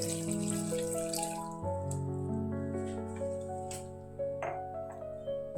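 Water pours into a pressure cooker holding tomato, a small onion, salt and turmeric, giving a quiet, steady stream whose ringing pitch rises as it fills, with a few splashes at the end; no talk.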